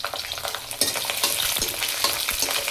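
Dried red chilies dropped into hot oil with mustard seeds and chana dal for a tamarind rice tempering, giving a close, steady crackling sizzle with sharp pops and stirring clatter throughout.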